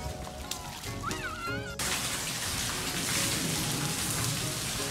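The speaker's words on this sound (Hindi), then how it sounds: "बहुत बारिश हो रही है" Heavy monsoon rain pours steadily in an Indian village, a loud dense hiss of drops on surfaces throughout, with a brief whistling sound early before the downpour becomes fully uniform and near.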